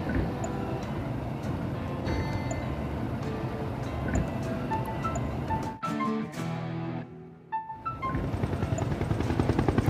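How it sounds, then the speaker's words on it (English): A steady helicopter rotor drone in a video game (MudRunner VR) with a rhythmic chop, briefly cutting out in the middle before the thumping returns. "Get to the chopper."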